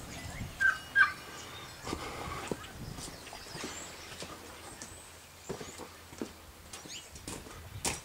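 Domestic turkeys gobble in bursts while feeding, the toms and hens close by, with scattered pecking and rustling between calls.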